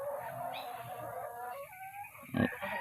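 Kedah chickens clucking and squawking while being caught, a few faint short calls close by, with a louder burst near the end.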